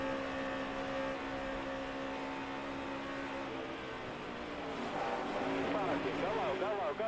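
NASCAR race car at Daytona during Daytona 500 practice, engine droning steadily with a rising, wavering pitch toward the end, loud and continuous, with radio voices over it.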